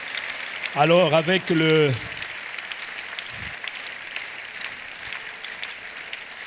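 Applause and cheering from a church congregation at a Sunday service rise after a preacher speaks in French, a steady broad clatter of many hands that continues under a brief burst of his voice.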